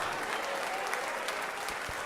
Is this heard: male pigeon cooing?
no